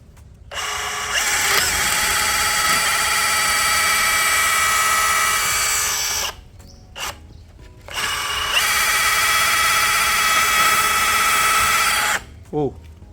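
A loud Bosch GBH187Li cordless brushless rotary hammer runs in two long drilling bursts separated by a brief stop, ending with short clicks and handling noise.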